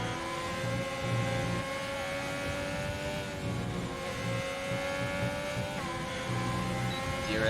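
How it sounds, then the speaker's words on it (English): Onboard a Ferrari racing car in a GP1 Mexican Grand Prix race, threading through the esses: a steady, loud engine drone with rising and falling pitch as the driver lifts and accelerates through the bends, continuous and alone without talk. "Jump on board with the Ferrari driver going through the S's here."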